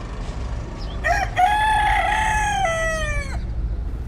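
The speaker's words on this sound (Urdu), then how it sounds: "ایک مرغا لیا" A single rooster crows once, loud and close, its long call rising and holding before it breaks off, heard alone over a low steady background rumble.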